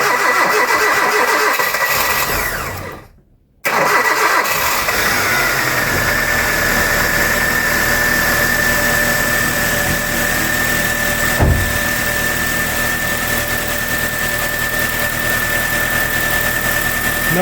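After a brief pause, a Hyundai i30 engine, just reassembled after cylinder head work, cranks and catches, then settles into a steady, slightly rough idle that runs on evenly.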